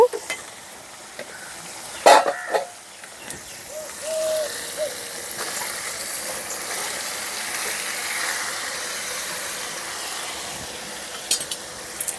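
Marinated soybeans dropped into sizzling masala in a pan for a vegetarian curry, a few sharp clatters and stirring scrapes at first, then a steady, moderately loud frying hiss that holds for several seconds.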